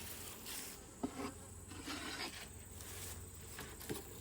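Honey bees hum and buzz around an open beehive, a close, continuous drone with shifting swells and a few soft knocks from handling the hive.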